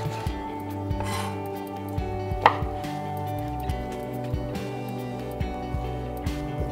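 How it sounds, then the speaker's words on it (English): A knife cuts tofu puffs for Nonya laksa. Soft, regular thuds land on the board against a steady background hum, with one sharper clack near the middle. "And now we will cut the tofu puff."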